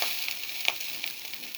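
Rice for khichuri sautéing in a pan, a steady soft sizzle with a few light scrapes and stirs, close and alone with no talk.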